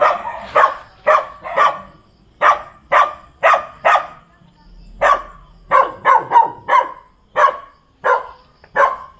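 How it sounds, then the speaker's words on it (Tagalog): A dog barks repeatedly in sharp, loud bursts, a steady string of barks with a short pause midway, close to the recording. "Hindi natin malaman kung bakit tumatahol yung aso"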